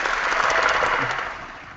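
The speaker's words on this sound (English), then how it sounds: "Thanks for the applause." Brief burst of applause, a dense crackle of many hands clapping that fades out over under two seconds, heard alone without talk.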